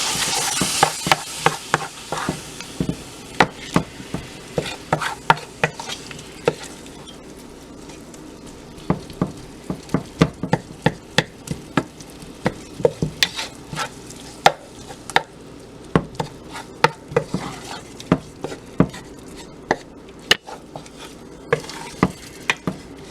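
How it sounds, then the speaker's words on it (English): Corn mutton fries in a pan under a steady sizzle, while a utensil stirs and scrapes it in frequent, irregular knocks close by, with no talking. "So we're gonna go ahead and fry this now."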